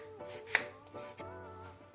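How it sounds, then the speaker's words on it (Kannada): A knife roughly chops peeled cucumber into small pieces on a board, giving a few sharp, separate chops over a steady low background hum. "ರಫ್ಲಿ ಚಾಪ್ ಮಾಡಿದರೆ ಸಾಕು."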